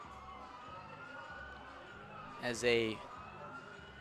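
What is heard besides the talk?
police car siren driving by beyond baseball field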